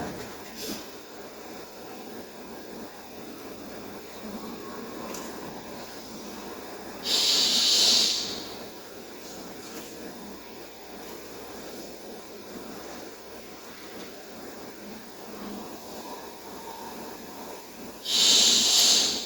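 Deep breathing during a magnetism healing session, two loud long breaths spaced about ten seconds apart over quiet room hiss.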